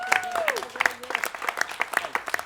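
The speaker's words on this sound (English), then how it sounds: "I want y'all to give him a round of applause for that" Scattered, fairly quiet applause at a press conference on state homeless funding, a loose patter of separate claps with a few voices and whoops over it.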